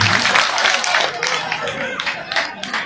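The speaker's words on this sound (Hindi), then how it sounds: "एक बार जोरदार तालियां हो जाए अंकल जी के लिए भी।" Loud, dense clapping from a crowd at an outdoor village political rally, sustained steadily for a few seconds with voices mixed in.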